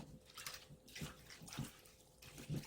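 Sliced lotus root lifted from cloudy starchy water and dropped into a bowl of vinegar water, giving a few soft splashes and watery sloshes at irregular intervals, close by and fairly quiet.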